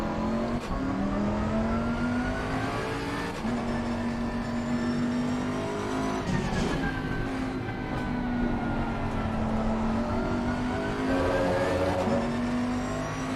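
Race car engines in a sim racing game at Kyalami, including a Ferrari, drone steadily with rising and falling pitch through gear changes, a continuous close engine note with no talking.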